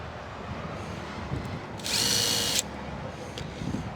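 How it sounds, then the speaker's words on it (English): A power drill bores one quick hole while a single interior door is installed, a loud whirring burst lasting under a second after a quieter stretch of handling sounds, close to the microphone. "I'm just going to drill one quick hole."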